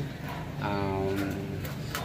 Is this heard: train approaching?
no